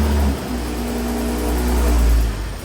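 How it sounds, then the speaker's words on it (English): BMW car engine running after a turbo replacement, a loud, close, steady low droning hum with a slight swell toward the end, with no voices. "The engine's running"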